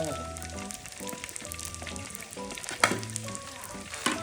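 Food frying in a pan in a home kitchen crackles with a continuous, moderately close sizzle, broken by intermittent tonal hums and one sharp clatter partway through.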